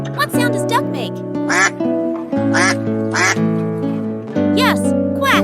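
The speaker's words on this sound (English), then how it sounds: "Dizzy the duck. What sound does duck make?" A cartoon-style duck quacks repeatedly in a bright rhythmic pattern over cheerful children's farm-song music, with a voice speaking alongside.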